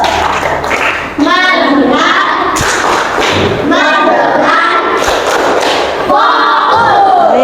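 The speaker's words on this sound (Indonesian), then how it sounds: "Tepuk fokus" Children in an Indonesian primary school classroom, SDN 1 Gowak Temanggung, do a focus clapping chant: loud rhythmic claps mixed with young voices chanting together, close and busy, with children talking around it.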